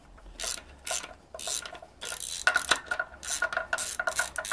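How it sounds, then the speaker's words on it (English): A small hand ratchet works loose the cylinder head bolts on a BMW E46 inline-six (M52TU/M54) engine, giving repeated close, rapid clicking strokes in bursts with metallic scraping between them and no talking. "Oh, with the small ratchet."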